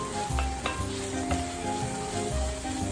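Garlic, seven or eight cloves, sizzling in oil among onions as it is stirred in; a steady close crackle with a few sharper stirring knocks, no voices.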